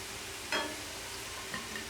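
Chana dal koftas frying in oil over very low heat as they are turned, giving a faint, steady sizzle with a couple of brief sharper crackles; no one speaks.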